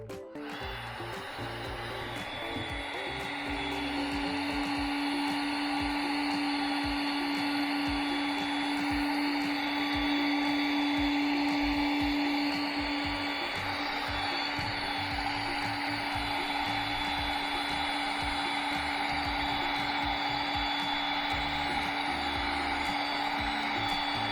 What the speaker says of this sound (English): let's now test the Milwaukee heat gun